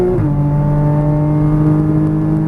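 Porsche Cayman GTS engine at high, steady revs on a race track, its loud harmonic drone stepping down briefly as it shifts up, then holding strong and continuous without any voices.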